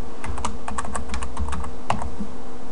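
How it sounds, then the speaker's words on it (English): Keys clatter on a computer keyboard as a password is typed in during an Ubuntu 10.10 LAMP server installation, a quick irregular run of close, crisp clicks over a steady low hum. "So we're going to go ahead and type a password in"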